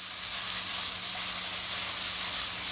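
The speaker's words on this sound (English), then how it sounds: "I'm going to just brown these onions and whatnot a little bit before I add in the tomatoes." Onions browning in grapeseed oil in a pan give a steady, close sizzling hiss that holds evenly throughout, with no talking.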